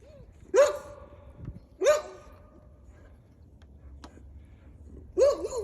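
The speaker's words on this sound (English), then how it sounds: "Somebody walked by us on the street and they're barking." Guard dogs bark at someone passing on the street, three sharp, separated barks at a moderate distance with pauses between them over a low outdoor hum.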